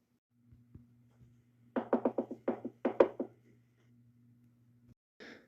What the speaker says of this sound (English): Here was the audio clip of the knocking.